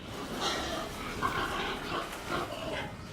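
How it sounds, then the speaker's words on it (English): Pigs in a barn grunt and snort at close range in several rough, irregular bursts, moderately loud, with no talking. "when one spots you, he'll bark, just make a big grunt noise, and they all jump up"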